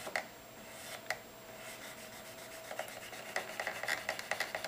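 A sharp right-angled metal edge scrapes the button crease of a tobacco pipe stem, giving a faint, close rubbing rasp with a few sharper scratches that quicken into rapid short strokes toward the end, with no voices.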